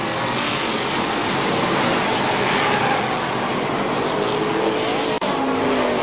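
Legends race cars lapping a speedway, a dense, loud roar of several engines blending into a steady wash of noise, with one car's pitch sweeping past near the end.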